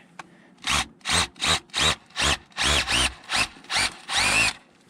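A Bosch power drill set to hammer mode bores in about ten loud, evenly spaced bursts, each a dense rattling whir with brief pauses between, close up and without talk.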